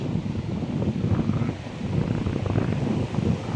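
Sea waves wash continuously against the shore where many boats sit moored, a broad surf roar mixed with gusty wind buffeting the microphone.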